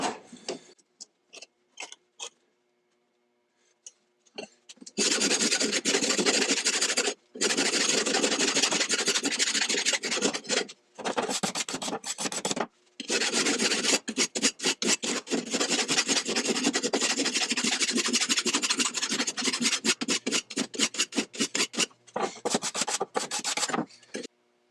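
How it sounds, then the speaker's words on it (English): A flat file with a medium or fine cut rasps across an axe head clamped in a vise between wooden wedges, in long, steady, loud strokes close by with only brief pauses. "The file I started with was a flat file that has a medium or a fine cut."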